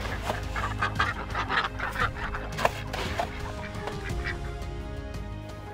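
A flock of ducks at an outdoor duck feeder makes busy, overlapping quacking and honking over a constant noisy background.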